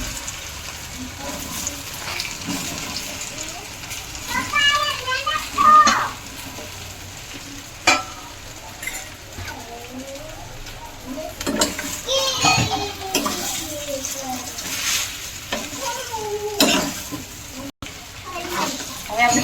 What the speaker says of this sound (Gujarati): બધા ઢોકળા મેં નાખી દીધા છે અને હું સરસ મજાનું હલાવી નાખું